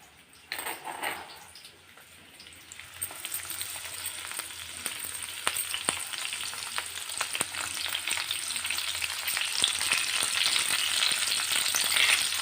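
Onion, chana dal, mustard seeds and curry leaves frying in a pan, a bright sizzle that grows louder and denser, broken by scattered pops and clicks of stirring.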